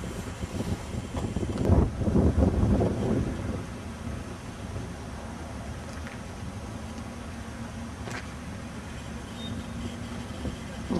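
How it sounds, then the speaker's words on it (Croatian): A cold, unpleasant wind blows across frozen ground outdoors at a temperature around freezing. It gives a continuous rough rushing that swells early and then settles into a steady, fairly faint roar. "ali puše neugodan vjetar, tako da je osjećaj da je hladnije nego što u stvari je."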